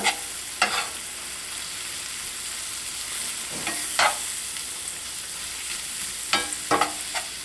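Flour being stirred into hot fat in a pan to make a roux, a steady soft sizzle with a few sharp utensil scrapes and taps on the pan scattered throughout, close and fairly quiet with no talking.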